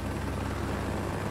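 A helicopter in the video game Rising Storm 2 thrums steadily and loudly throughout, a dense continuous rotor drone with no voices.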